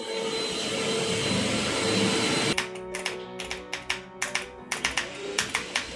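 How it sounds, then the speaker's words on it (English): A household vacuum cleaner drones steadily at first, then gives way to a rapid series of sharp clicks and taps, with no talking. "I just love the vacuum. Why is there a vacuum?"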